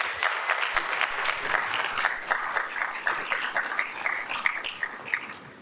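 A lecture audience gives a round of applause after a speech by Sri Mulyani Indrawati, with steady, fairly close clapping from many hands that continues throughout and shows individual claps picking out near the end.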